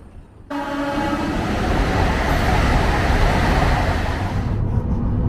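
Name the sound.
Steel Express train moving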